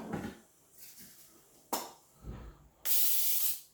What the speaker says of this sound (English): Gonna get some cooking spray out.